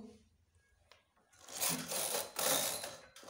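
A knitting machine works rows of a gents' sweater, starting with faint clicks and then a loud rasping carriage sweep back and forth at close range.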